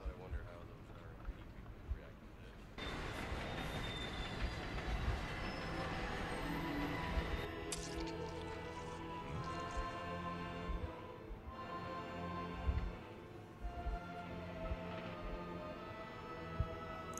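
A train in the video game Resident Evil 0 rumbles along with rattling wheels and occasional metallic clanks, a steady moderate rolling noise that rises after a few seconds, with speech heard over it.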